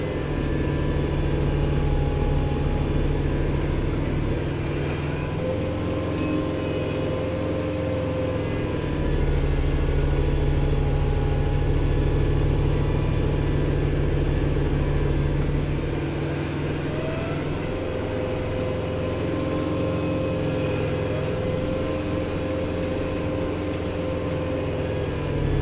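A Kubota 5740 tractor fitted with a snowblower runs steadily after a major storm, a continuous mid-pitched engine drone with fluctuating load and blower whine, loud and close throughout.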